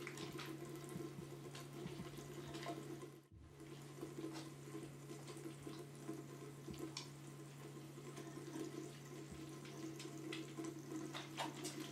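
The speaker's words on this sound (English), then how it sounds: "Rinse well, holding your hands with the fingers pointed downward. As the water flows toward your fingertips, soil and contaminants wash off your skin and down the drain." Steady running tap water splashing into a sink during handwashing with soap, a continuous broadband rush with a constant low hum underneath and a brief dropout partway through, no talking.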